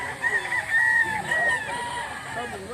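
A Gilmore bloodline gamefowl stag crows close by, a drawn-out call with a couple of rising bursts, set against steady outdoor background noise.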